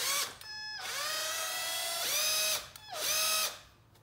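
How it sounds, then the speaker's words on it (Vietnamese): A cordless drill set to drill mode runs in three close bursts. Each one whines up to a steady high pitch, holds, then winds down, with short quiet gaps between the runs. "Đây là khoan luôn."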